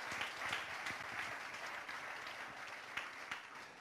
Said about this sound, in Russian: Вы можете аплодировать Иисусу Христу, если вы захотите это делать.